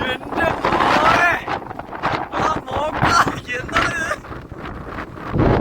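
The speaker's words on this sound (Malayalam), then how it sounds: "ഇതാണ് കാറ്റടി" Strong wind buffets the microphone at the Chadurangapara hilltop viewpoint in Kerala, a loud, gusty rush that continues throughout while a person talks over it.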